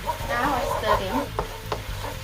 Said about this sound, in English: Now I stir in.